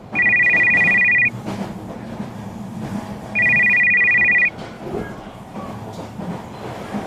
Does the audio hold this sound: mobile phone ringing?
yes